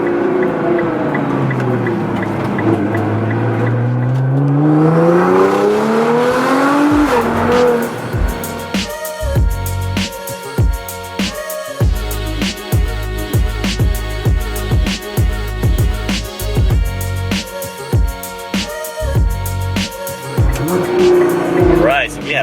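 A Nissan GTR car drives along a road, its engine rising and falling in pitch through gear changes, then settling into a rhythmic, pulsing note up close, loud throughout.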